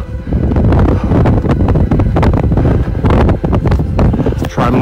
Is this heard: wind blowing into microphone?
yes